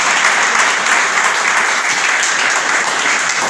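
A Spanish-speaking church congregation bursts into loud, continuous applause for the Lord during a sermon, many hands clapping densely and evenly for several seconds with no pause.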